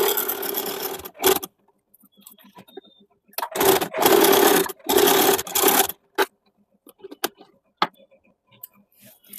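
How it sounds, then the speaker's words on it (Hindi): A domestic sewing machine stitches darts at a blouse neckline in short, loud whirring runs broken by silent pauses, with faint clicks and handling taps between bursts. "अभी मैं ये दोनों टेकिंग सिल के आप लोगों को दिखा देती हूँ।"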